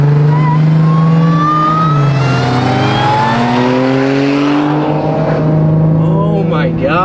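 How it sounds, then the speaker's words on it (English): An Audi S4 with a supercharged V6 revs loudly and close by, its engine pitch sweeping up and down through the whole stretch, while people talk excitedly over it. "Bro, the S4 is so fast. Supercharged V6, just endless pull."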